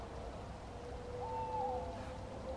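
An owl hoots once from up in nearby trees, a clear wavering call rising and falling over a faint steady outdoor hiss, no voices.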